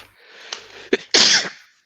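A single loud sneeze with a short inhaling build-up, then a sharp burst of air, close by, followed by quiet.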